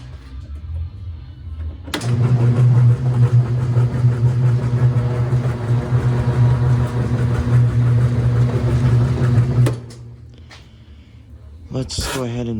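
A Whirlpool direct drive washing machine motor switches on abruptly and runs at high speed with a steady, loud droning hum for about eight seconds, then cuts off, leaving quieter background noise.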